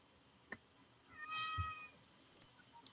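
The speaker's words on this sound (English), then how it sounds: "Yeah, that's my cat. If you're wondering what that is." A female domestic cat in heat gives a single drawn-out meow, fairly faint and slightly distant, in an otherwise quiet room with a short knock just before it.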